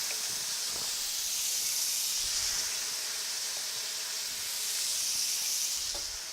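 Butter sizzles and hisses steadily around steak in a Lodge cast iron pan, a loud, continuous close-up frying crackle with faint clatter underneath and no talking.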